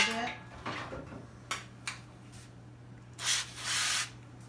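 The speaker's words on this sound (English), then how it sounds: "I'm going to spray the pan just a little" Short hissing bursts of cooking spray from an aerosol can onto a baking pan, a few quick puffs followed by a longer spray, with faint clinks of the pan.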